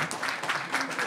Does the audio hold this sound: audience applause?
yes